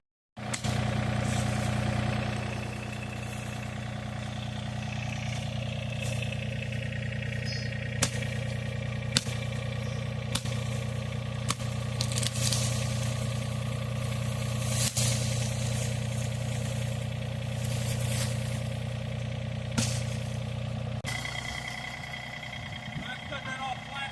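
A tractor engine idles and runs steadily at close range while a small tree is dug up on a mountain off-grid homestead site, with a constant low hum and occasional clanks over nearly the whole span.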